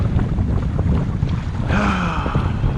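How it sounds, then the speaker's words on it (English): Strong wind buffets the microphone on a fishing kayak on choppy water off Central Queensland, a constant rushing roar over lapping chop, with a brief higher whine partway through. "the wind has really picked up"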